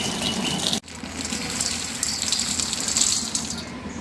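Soaked khesari lentils are washed in water, giving a continuous gushing, sloshing wash of water with grains rattling, broken by one brief pause.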